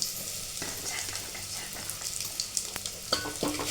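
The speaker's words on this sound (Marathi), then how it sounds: "चटणी तेलात आपण टाकून घेतल्या मस्तपैकी तळसून घेतली" Chili chutney frying in oil for a village-style crab curry makes a soft, close sizzle with scattered stirring scrapes and clicks toward the end, fairly quiet and without talk.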